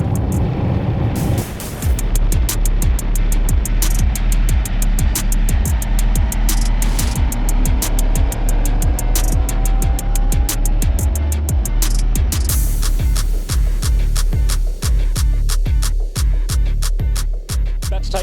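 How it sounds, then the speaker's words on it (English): Ducati Panigale V4S motorcycle ridden hard on a race track, a loud engine rising in pitch through the revs, then rapid crackling pulses and sharp gear changes, close and dominant throughout. "Take the Panigale V4S out for my first session on track."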